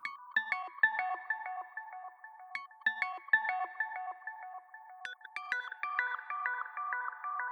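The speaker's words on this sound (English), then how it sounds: "I have the feedback, or well, the delay lines in the echo set to also be a bandpass filter, so they are even more muffled than the sound already is." Synth tones pass through echo delay lines whose feedback is bandpass-filtered, giving muffled, ringing repeats of short bright notes that stack and trail off in rhythmic bursts, with no voices.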